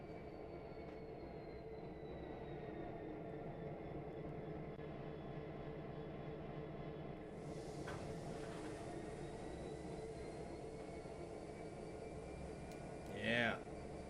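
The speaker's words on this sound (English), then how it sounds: "Actually, I'll give you guys a better listen to the engine sound." A Class 66 diesel locomotive engine in the train simulator game Trainz Simulator 3 rumbles in a steady low drone on freight duty, with a brief rise in hiss midway and a short knock near the end.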